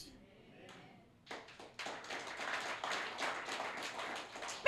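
A church congregation breaking into applause: near-silence with a faint voice, then a few scattered claps that quickly swell into steady, fairly quiet group clapping that continues to the end.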